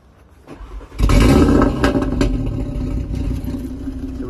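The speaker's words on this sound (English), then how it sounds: "start it up, give it a few revs in dynamic" Audi RS3 Sportback engine cranks and fires with a loud burst, settling into a close, rumbling idle with small rev blips, heard alone without talk.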